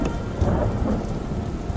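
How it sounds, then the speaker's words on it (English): Steady rain pours with low rolling thunder rumbling underneath, a continuous storm ambience in the survival game Dustland Delivery, moderately loud and even throughout with no voices. "And there's the rain"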